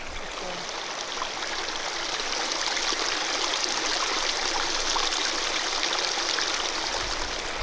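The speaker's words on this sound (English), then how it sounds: "Love the sound of trickling water" Mountain stream water trickling and rushing steadily, a dense, continuous wash that holds close and fairly loud throughout with no voices.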